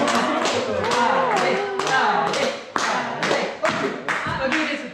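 Party guests at a birthday magic show clap in bursts, with roughly eight to ten distinct, fairly close slaps over a background of talk and a melodic voice.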